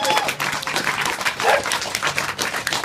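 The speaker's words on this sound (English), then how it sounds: "so give yourselves a round of applause" Crowd at an outdoor badger cull protest applauding, dense steady clapping from many people for about three seconds, fairly close, with a few dog barks mixed in.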